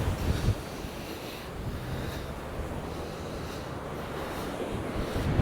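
Storm waves roll onto Walcott beach under gusting wind that buffets the microphone, a constant low roar of surf with heavier rumbling surges at the start and end.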